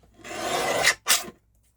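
Scissors or a blade cutting through a paper envelope to remove its flap, a close, steady rasping stroke followed by a second shorter cut, with no talking.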